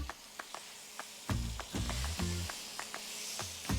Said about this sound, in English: You can hear that sizzle. Skillet's nice and hot.